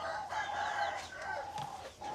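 A hen clucks and murmurs in a series of short calls, close by, with steady rustling background noise and no talking.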